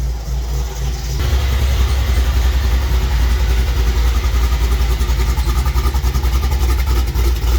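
A car engine idles steadily as it warms up in cold weather in the 20s, a close, loud, even rumble with a slight pulsing throb after it settles in; no talking.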